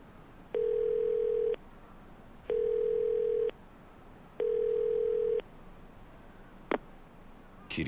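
A payphone dial tone in the video game Yakuza 0: three steady, identical tone bursts of about a second each, separated by equal gaps, followed by a couple of faint clicks near the end.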